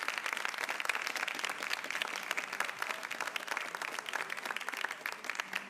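A studio audience at a live Ramzan iftar show claps steadily, a dense, even wash of applause from many hands lasting throughout, fairly loud and close with no voices over it.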